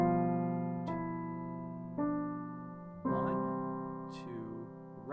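Piano melody played an octave higher in a beginner lesson, with a few separate notes struck about a second apart, each ringing and decaying, soft and alone with brief noises between notes.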